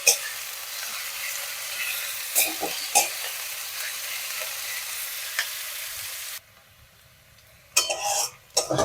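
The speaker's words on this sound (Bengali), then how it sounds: "পেঁয়াজগুলোকে আমি একটু লাল করে ভেজে নেব।" Onions fry in a pan with a steady close sizzle and a few scattered clinks of a utensil stirring. The sizzle drops away partway through, then more clattering returns near the end.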